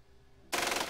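Soldiers firing guns in the tactical video game Xenonauts, a sudden loud burst of automatic fire cutting in after a quiet moment.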